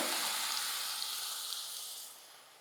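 Coriander-leaf pakoras frying in hot oil, a bright steady sizzle close up that gradually softens toward the end, with no voices.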